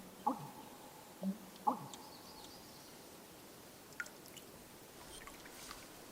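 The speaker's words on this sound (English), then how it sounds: "So yeah, American bittern. Very unique call." An American bittern calls from a quiet wetland at ice-out, sounding as a few short, low, hollow gulping notes spaced over several seconds. The notes are faint, with near silence between them.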